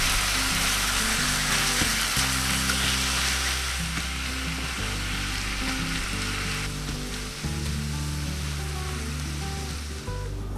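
Ground beef seasoned with salt, pepper, paprika and garlic sizzling loudly in a pan, a dense continuous crackle with a steady low hum and occasional stirring shifts, close up and with no talk.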